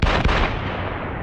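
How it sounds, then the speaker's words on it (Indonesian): Gunfire in an action film: a sharp burst of loud shots crackles at the start and then fades into a decaying echo. "Clay justru menembak Fadil."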